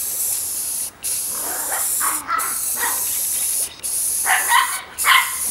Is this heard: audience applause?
no